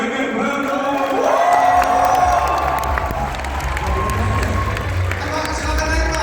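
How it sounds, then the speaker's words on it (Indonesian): A large festival audience at Idea Fest 2023 applauds and cheers for Ganjar Pranowo, with dense continuous clapping, shouts and whoops filling the whole stretch, loud and close, with voices mixed into the crowd noise. "kita sambut lagi tepuk tangan yang meriah untuk Pak Ganjar Pranowo."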